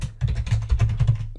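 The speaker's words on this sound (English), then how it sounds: "you can start typing commands" Close, steady typing on a computer keyboard while entering Linux commands for an Intel Edison mini breakout board, a quick run of key presses with no speech.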